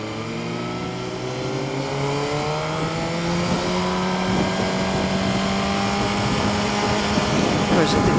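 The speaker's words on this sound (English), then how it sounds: "Of course, you see, I get a little bit of a backfire." A motorcycle engine revs in steady rising harmonics over continuous wind and road noise, with a sharp crackling backfire pop near the end.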